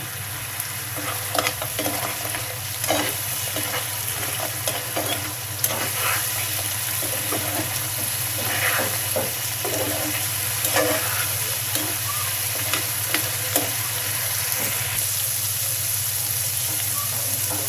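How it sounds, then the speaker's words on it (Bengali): Pumpkin lentil dumplings sautéing in a pan with green chili, a steady close sizzle under a low hum, punctuated by repeated stirring scrapes and spatula knocks throughout, without speech. "কুমড়ার বড়িগুলো দিয়ে দিচ্ছি। এখন এটাকে কষিয়ে নেব।"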